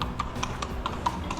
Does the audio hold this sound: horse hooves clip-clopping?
yes